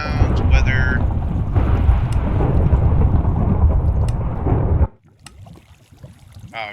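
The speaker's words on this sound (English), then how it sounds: "Wow, if I even put it on 1, all that thunder hits." Thunder in Minecraft, a loud sustained rumbling roar that cuts off abruptly after about five seconds, leaving quiet background with faint sounds.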